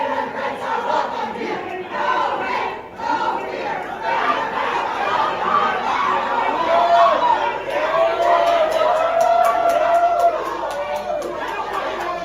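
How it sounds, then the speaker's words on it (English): Protesting activists crowd the New York State Capitol, a loud, dense mass of shouting and chanting voices that carries on steadily for the whole stretch, with no single speaker standing out. "Leftist activists stage an insurrection in the New York State Capitol."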